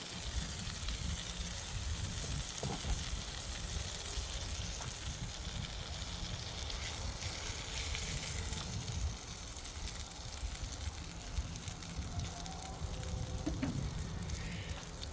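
Steady broadband sizzling and crackling from cheese buttons on a hot grill, continuous and fairly close, with a few faint clicks and no talking.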